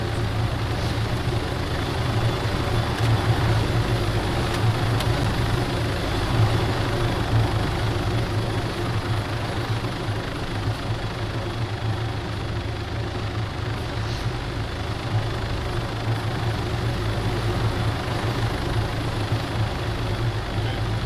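A military helicopter in ArmA 3 drones steadily and loudly with a low rotor and engine rumble, holding constant for the whole stretch with no voices.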